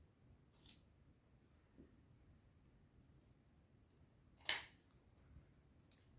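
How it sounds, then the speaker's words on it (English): Scissors snipping away excess fabric while sewing a nurse's uniform, a few faint, sparse cuts spread out over quiet room tone, one crisper snip standing out. "So I'm going to cut the excess from it."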